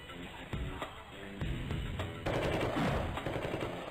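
Rapid bursts of gunfire from the Sift Heads 2 shooting game, with repeated sharp shots through the clip and a denser, louder stretch of firing in the second half.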